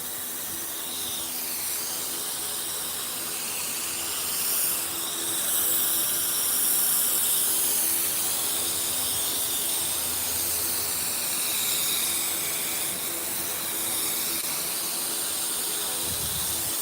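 A spray gun lays a second coat of CRE321 epoxy onto a repaired, dented fender, giving a steady, close hiss that runs unbroken throughout.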